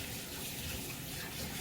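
Tap water runs steadily as hands are washed at a kitchen sink, a continuous close hiss with no pauses or voices.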